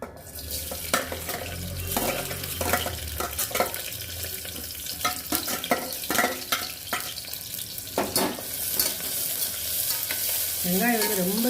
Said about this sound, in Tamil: இப்போ வந்து நம்ம வெங்காயத்தை போட்டுக்கலாம்.